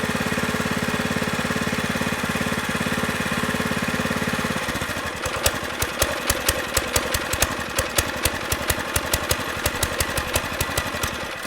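A Champion 208cc gas engine on a log splitter runs steadily at a fast even idle, then drops to a slower, heavier chugging with distinct rhythmic pulses as it winds down toward shutdown, close and loud with no talk.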